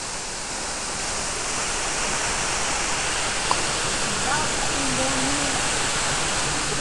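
A waterfall behind a house roars in a dense, constant rush, loud and close, holding steady from start to finish.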